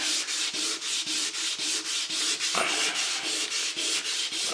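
An oak floor is sanded by hand to remove a footprint, with rhythmic back-and-forth rubbing strokes, about four per second, loud and close with no talking.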